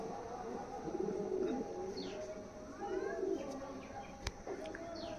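Kalduma pigeons kept by a breeder in Baruipur coo softly in a loft, with repeated low, rolling coos and a few faint chirps in the background.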